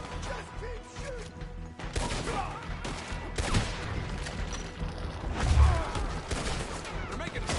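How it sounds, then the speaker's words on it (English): Red Dead Redemption 2 shootout: dense, loud gunfire with repeated overlapping rifle and pistol cracks and crashes, while characters shout over the battle. "Just keep shooting!"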